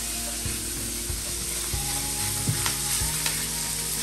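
Bacon fries in a pan as its fat renders, giving a loud, dense, continuous sizzle with scattered small pops and crackles throughout. No one speaks.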